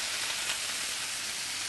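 Food sizzles steadily in a frying pan during a quick weeknight pasta dinner, a close, even, hissing crackle that holds without a break and with no voices.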